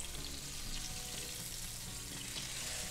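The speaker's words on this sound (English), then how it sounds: "Few minutes cooking, there is a bit of crust, so now we can turn it the other way" A basa fillet fries in a pan with a dense, continuous crackling sizzle, close and even from start to finish, with no talking.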